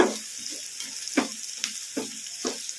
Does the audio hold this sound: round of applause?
no